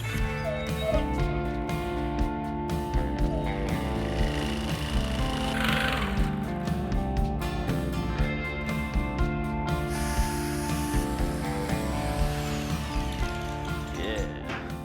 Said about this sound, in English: This is a pretty big plate to cut. Could use any type of high-tech machinery in the world. But I think I'm just gonna use the common jigsaw.